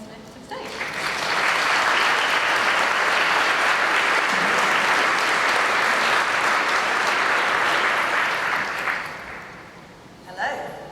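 Sustained applause from a conference audience greets a speaker coming onstage at a retrofit event, swelling quickly, holding steady for about eight seconds, then fading, with a brief voice at the end.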